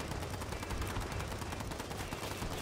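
Rifle gunfire in the video game Earthbreakers: a dense, steady stream of rapid shots rattling on without a break, loud and close, with a constant rumbling low end and no talk.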